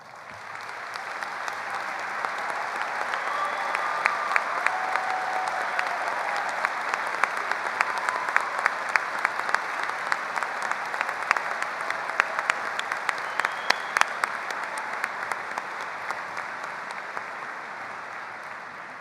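A high school commencement crowd gives a long ovation honoring veterans, a full, sustained roar of clapping with sharp individual claps standing out near the front. It swells and then slowly tapers over nearly twenty seconds.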